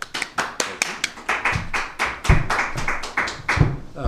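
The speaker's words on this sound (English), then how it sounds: "we just want to give a big round of applause and hats off to Matt Hollis." A small group applauding at a county update, a few distinct hand claps ringing out unevenly at close range, sparse and loose rather than a full crowd.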